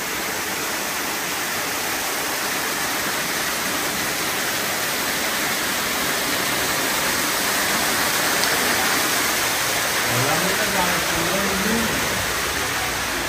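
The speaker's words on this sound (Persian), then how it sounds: "بله این هم آبشار است که پیشتر نشان دادم ولی حال بدون خودم است" A waterfall roars in a continuous, dense rush of falling water, close and loud throughout, with a faint voice-like tone briefly surfacing near the end.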